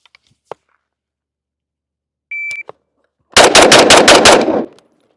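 A Steyr AUG bullpup rifle firing six rapid, evenly spaced shots in a tight burst, loud and close, preceded by a few small clicks and a short electronic timer beep.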